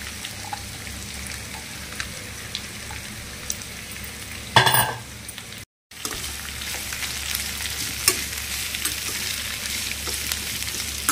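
Onions fry in a pan for a puri potato curry, a steady close sizzle running throughout, broken by a brief louder clatter or stir midway and a short silent cut, with no talking.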